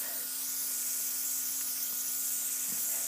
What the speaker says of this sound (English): But with the Airbrush, it's like spray painting it, and it's so flawless.